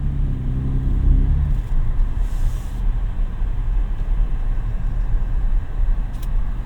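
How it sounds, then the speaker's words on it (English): A 2026 Ford F-150 Raptor pickup's exhaust rumbles as it drives through a parking lot, a deep throaty drone that eases off into steady road noise. "The exhaust sounds good."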